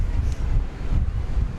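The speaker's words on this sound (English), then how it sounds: "it's just super windy today" Strong wind buffets the microphone at DFW Airport, a steady low rumbling roar with gusty swells and no voices.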